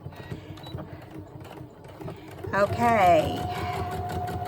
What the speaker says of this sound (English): we're just going to stitch around the outside of this birdie